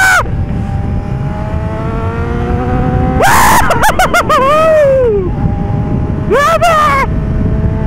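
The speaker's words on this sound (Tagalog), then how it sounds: "Kawasaki Z900 guys, with its screamer, inline 4 power." A Kawasaki Z900 naked big bike with an inline-four engine and screamer exhaust idles loudly up close, then snaps into two sharp, rising revving bursts, the second shorter, while a rider briefly exclaims.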